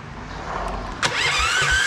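A 420 cc minibike engine, choked for a cold start, cranks with a faint rustle, then catches abruptly about halfway through and settles into a steady, fairly loud running hum close by.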